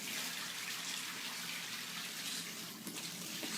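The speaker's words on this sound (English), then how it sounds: "we are filling up a float tank as far as we can go" Water pours steadily into a Zen float tent tank, a continuous broadband rushing hiss like a tap filling a tub, even and unbroken throughout with no voices.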